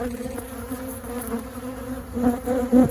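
Agitated honey bees at an opened single brood chamber hive in June hum in a dense, steady drone close by, with individual bees whining louder as they fly past.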